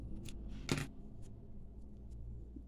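Scissors snip through knitting yarn while a heart is being knitted, giving one crisp, close cut among a few soft handling rustles in an otherwise quiet room.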